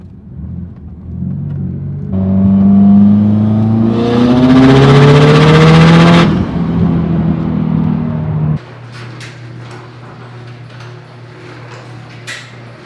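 A Subaru STi with raised boost accelerates hard through a pull, engine note climbing loud and close in rising harmonics, then easing off into a steady lower drone and road rumble.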